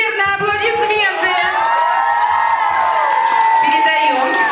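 An audience at a younger children's Mister and Miss pageant during a 2011 second camp session breaks into applause mixed with loud cheering, whoops and shouting voices, a dense, steady roar throughout.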